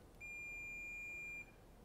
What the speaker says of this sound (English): you can hear that beep. That tells me I have a connection.